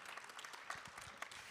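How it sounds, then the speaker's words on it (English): An audience at a conference session claps briefly, a quiet and steady patter of many hands heard from a distance. "let's give Guillermo another round of applause for being awesome"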